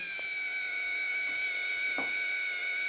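A Dremel rotary tool runs at reduced mains voltage with a continuous high-pitched motor whine, steady and close, with no talking.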